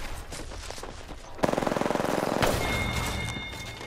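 Airstrike explosions and gunfire in the Apex Legends video game: a dense rapid burst of automatic fire, then a heavy booming blast with rumbling aftermath and a faint high tone, loud and close.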